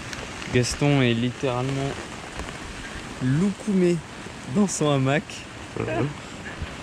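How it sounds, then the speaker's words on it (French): Steady rain patters in a constant hiss, with wind, on a deserted island as someone talks over it in short bursts. "Nous sommes actuellement toujours sous la pluie."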